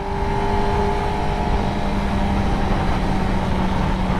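An engine built to a 16,000 RPM rev limit holds a loud, constant high-pitched drone with a steady whine and sustained exhaust roar, close up and unbroken throughout.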